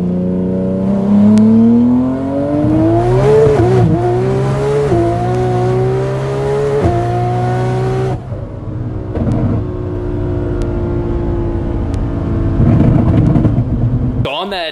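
A 2200-horsepower Nissan GT-R accelerating hard on the street, loud rising engine pitch climbing through gears with a shift break, then another strong pull, with voices and cabin noise mixed in.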